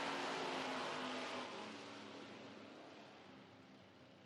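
Two stock eliminator drag race cars, a Dodge Demon and a Camaro, launch in a qualifying final, their engines a loud, dense roar that gradually fades as they pull away.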